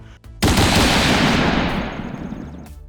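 A loud sustained burst of rapid rifle fire from troops in a bunker, a dense gunfire sound effect that starts abruptly and fades toward the end. No talking.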